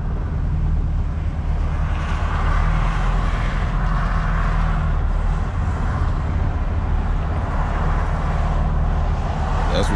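A 1996 Chevrolet Impala SS engine idles steadily, a low continuous rumble with a constant drone heard up close throughout, no talking over it.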